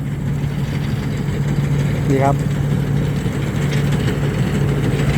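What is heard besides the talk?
combine harvester engine running in rice field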